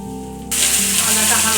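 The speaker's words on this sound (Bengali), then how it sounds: "আদাটা হালকা ভাজা হয়ে গেলে" Ginger paste hits hot oil already seasoned with bay leaf and five-spice, bursting into a loud, dense sizzle after a quieter opening moment and holding steady up close until the end.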